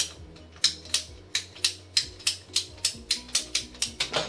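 Large PVC pipe being cut by hand, about a dozen rhythmic rasping saw strokes that speed up toward the end, close and fairly loud with no talking.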